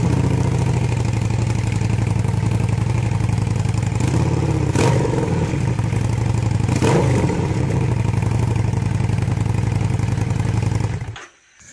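Harley-Davidson XG750 Street motorcycle engine with the exhaust baffle removed, a loud raw rumble held close and steady, rising in short revs before cutting off abruptly near the end.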